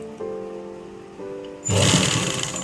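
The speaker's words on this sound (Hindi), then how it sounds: "एक बार और हम इसे ऊपर की ओर सिलाई लगाएंगे" A sewing machine runs a fast steady stitch along elastic on a pair of trousers, starting abruptly after a quieter lead-in and whirring loudly and close for about a second.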